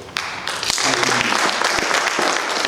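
A church congregation claps together at a service, steady, dense applause filling the room, with some voices mixed in beneath the clapping.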